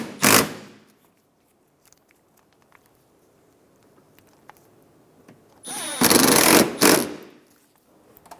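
A power tool drives two 10mm bolts into a headlight assembly on a 2014-2019 Toyota Highlander, heard as a short whirring burst, a quiet pause with small clicks, then two more bursts close together.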